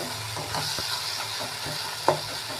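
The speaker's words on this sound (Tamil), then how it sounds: "நல்லா அப்படி கொத்தி விடுங்க அப்படியே பச்சை மாதிரி வந்துடும்" A spatula stirs and breaks up egg stir-fry in a pan with tomato, giving a steady sizzle under soft scraping strokes, one sharper clack near the end, and no voices.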